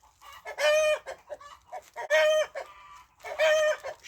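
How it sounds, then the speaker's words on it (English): A cockerel crows three times close by, each call a loud, drawn-out cock-a-doodle-doo with short clucking sounds between them, outdoors near a cabin. "Bloody cockerel."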